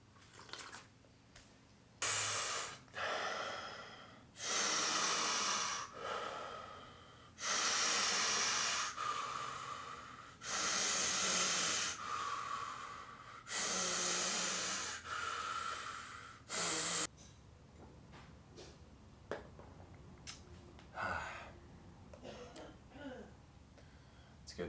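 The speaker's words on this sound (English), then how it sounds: "Let's get to breathing." Slow, deep breaths alternate between long, loud airy inhales and exhales close to the ear, about six full cycles spaced by pauses, before quieter faint sounds follow.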